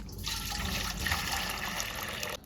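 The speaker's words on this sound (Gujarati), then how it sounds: "હવે આ બધી શાકભાજી છે ને આપણે ધોવાની છે।" Running water pours steadily while vegetables such as tomatoes are rinsed by hand in a home kitchen, a continuous close splashing trickle lasting a couple of seconds with no talking.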